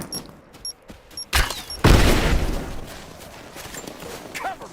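Bursts of gunfire crackle in the video game Rise of the Tomb Raider, sharp rapid shots followed by a heavy boom and a lingering rumble of combat noise.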